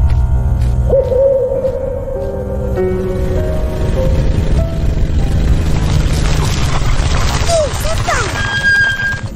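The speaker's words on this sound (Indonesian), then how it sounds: "Burung hantu." An owl hoots in an animated children's cartoon set at a kindergarten, sounding alongside a busy soundtrack of music and effects, with a voice speaking over the scene.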